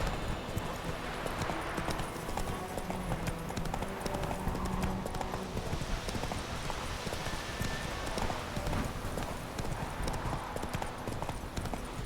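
Roach, a horse in a video game, gallops with a fast, steady clip-clop of hooves close up, continuous for many seconds amid layered game sound effects.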